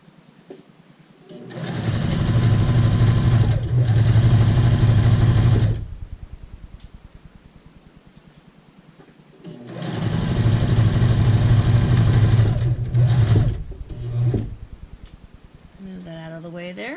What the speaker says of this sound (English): We're doing an edge stitch.